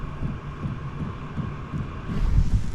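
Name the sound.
diesel heater fuel pump knocking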